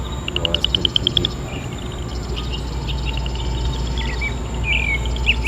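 Bird call played back through an experimental matrix speaker array at a technology lab event, heard as a series of short high chirps early on, then scattered trills over a steady low hum and room noise.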